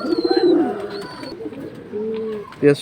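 Pigeons of a high-flying breed coo in short, repeated bursts close by, a soft throaty warble that pauses and returns, with a brief sharper call near the end.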